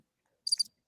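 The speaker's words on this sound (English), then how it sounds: "Crickets." A played cricket sound effect gives one brief, faint, high chirp in near silence, lasting a fraction of a second.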